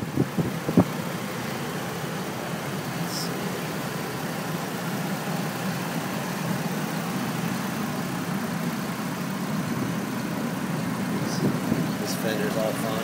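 2004 Chevy Trailblazer LT EXT 4x4 with its 4.2 liter engine idling quietly, a steady low hum that holds level throughout, with some talking over it.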